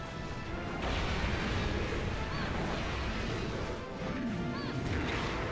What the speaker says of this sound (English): let's not be where the explosions are gonna